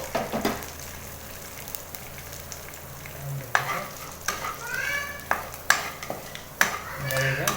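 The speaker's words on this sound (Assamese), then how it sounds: "ইয়াৰ পাছত আমি মিঠি গুটিকেইটা ৰঙচুৱা হোৱালৈকে আমি ভাজোঁ।" Fenugreek seeds frying in hot oil in a pan, a steady close sizzle punctuated by repeated spoon scrapes and clinks on the metal as they are stirred, with no talk.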